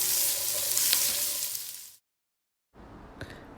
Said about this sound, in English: And then we're gonna saute our onions.